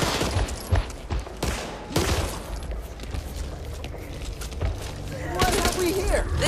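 Gunfire from the zombie shooter Back 4 Blood, a dense run of rapid shots and booming bursts, loud and close, with voices talking over the action.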